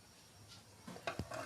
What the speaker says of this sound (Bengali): এরকম করে অনবরত নাড়তে থাকবেন